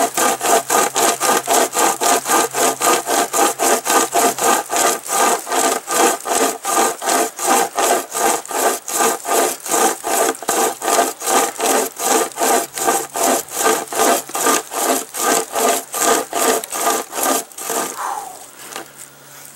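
A small pocket chainsaw cuts through wood in steady, rapid back-and-forth strokes, loud and close, slowing briefly near the end before stopping.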